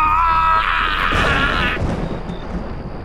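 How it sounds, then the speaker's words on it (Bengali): A loud thunder strike crashes at once, a heavy rumbling roar that rolls for a couple of seconds and then fades into a low, distant grumble. "আর সেই সাথে আর একবার বাজ পড়ল"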